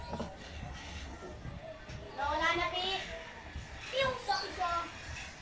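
Children play and talk near a computer shop, their voices faint and somewhat distant, rising in a few short chattering bursts over a low steady background hum.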